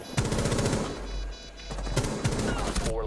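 Rapid gunfire crackles in Rainbow Six Siege as bursts of automatic shots snap close and loud in quick succession, pausing briefly before firing again.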